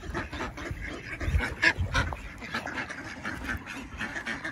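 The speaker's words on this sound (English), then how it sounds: "All right, we'll feed the ducks." Ducks quack in quick, irregular bursts close by near a boat, several calls overlapping with splashy background noise and no talking.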